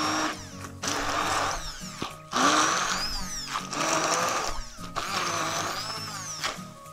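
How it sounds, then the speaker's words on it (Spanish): A hand-held immersion blender whirring through a goat birria chile sauce in a Mexican home kitchen, loud motor whine in several bursts of a second or two each, pitch shifting as the load changes. "Y con esta empezamos a licuar."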